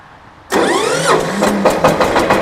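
A Shifeng 240B tractor's diesel engine cranks briefly and catches almost at once, settling into a loud, close, knocking idle with a steady rhythmic chug.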